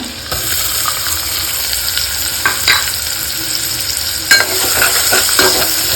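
Onions sizzle steadily in a hot pan as they are stirred, with a spatula scraping and clacking against the metal at intervals. The sound is close and continuous, with no talking.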